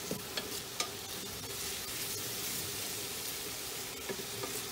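Red and yellow capsicum stirred into a sizzling squid stew, giving a soft steady sizzle with occasional faint clicks and scrapes from the pan, no talk.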